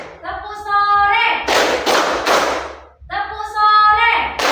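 A group claps hands together in a tepuk pagi, siang, sore, malam counting clap game during a classroom teaching session. A second or so of dense, loud clapping bursts sits between stretches of a voice chanting or speaking.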